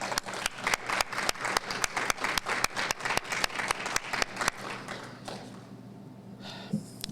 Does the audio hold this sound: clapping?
yes